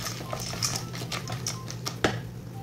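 Macaroni being stirred in a cooking pot makes a close series of light clicks and soft scraping taps, ending in one sharper knock against the pot, with no speech.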